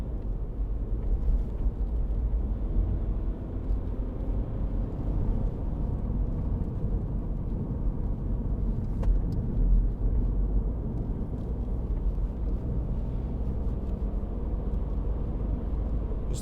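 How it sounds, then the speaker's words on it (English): A 2015 MINI Cooper D hatch with a 1.5 diesel and automatic gearbox drives through bends, its engine hum and road rumble a steady, even drone heard from inside the cabin without talk. "We'll give a bit of gas going through these bends."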